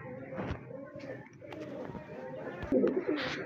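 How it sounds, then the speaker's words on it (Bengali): Huma breed pigeons coo in a loft, soft repeated throaty calls with a few brighter chirps, fairly close, over a busy background with voices around. "এটা আমাদের হুমা জাতের কবুতর।"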